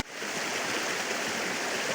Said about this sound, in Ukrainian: Так гарно шумить вода, щось хочеться заспівати.